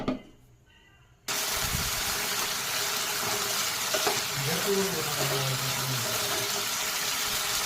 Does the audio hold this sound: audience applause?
no